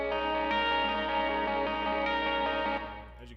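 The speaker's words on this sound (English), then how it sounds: "I laid down a chord on my guitar and just started plucking at it instead of strumming it" An electric guitar chord is plucked note by note through distortion, chorus and echo effects, giving a shimmering sustained tone with soft repeated attacks that fades toward the end.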